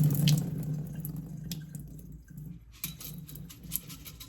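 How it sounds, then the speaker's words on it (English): Water drains out of a glass sprouting jar of rinsed seeds, making a close trickle with scattered drips and light splashes that thin out partway through, then pick up again as short patters. "Okay, so drain, rinse, drain, and drain again. Okay, so draining right now."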